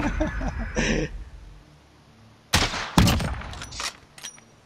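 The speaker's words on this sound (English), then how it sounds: "That was a warning shot." Gunfire in an online one-on-one shooter match: a few sharp cracks and short bursts stand out after a quieter stretch, mixed with some talk and game sounds.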